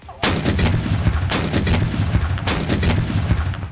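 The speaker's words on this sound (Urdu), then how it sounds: "معزز مہمان کو نور خان ایئر بیس پر 21 توپوں کی سلامی دی گئی۔" Ceremonial cannon fire during a 21-gun salute at Nur Khan Airbase, three loud booming shots about a second apart, each followed by a rolling echo.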